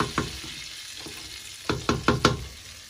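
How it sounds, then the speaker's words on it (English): Butter melting in a pan on moderate heat, a soft low sizzle with several sharp clinks and scrapes clustered toward the end, close and fairly quiet. "While the butter is melting."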